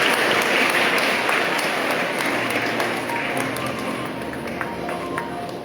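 An inauguration ceremony audience applauds loudly and steadily, dense clapping that fades slightly toward the end.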